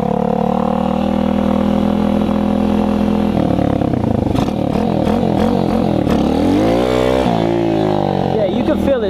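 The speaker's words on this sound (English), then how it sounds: "Let's try to pop a wheelie real quick." A TaoTao 140cc Chinese dirt bike engine revs hard and loud up close, idling steadily, then climbing and dropping in repeated throttle blips, with a voice talking over it.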